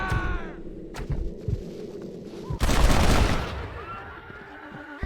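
Gunfire erupts in Red Dead Redemption, a dense volley of close, loud shots bursting in around the midpoint and rattling on for over a second, with scattered thuds and a lone earlier crack before it.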